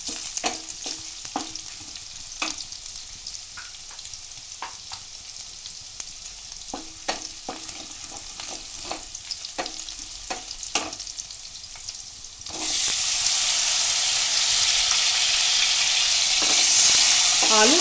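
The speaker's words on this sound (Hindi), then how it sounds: "इसमें जो हमने आलू काट के रखे हैं वो आलू मैं इसमें डाल दूंगी अभी" Ginger and garlic sizzle in a pan with scattered crackles and pops, then sliced potatoes go in and the frying swells into a loud, steady hiss that lasts to the end, with no talk.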